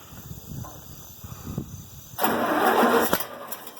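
An IH Farmall 706 tractor engine with a new carburetor cranks and catches with the choke partly on, turning a quiet background into a loud, rough, steady roar after about two seconds.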